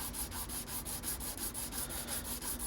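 A guitar nut's bottom being sanded on 320 grit sandpaper laid on a straight-edged piece of wood, a steady close rhythmic scratching of quick back-and-forth strokes, no talking.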